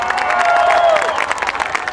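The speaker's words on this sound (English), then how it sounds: "Give her a big round of applause." Crowd at a Barack Obama campaign rally in Downingtown cheering and applauding, a loud continuous wash of clapping and shouts with a brief whistle or high voice cutting through.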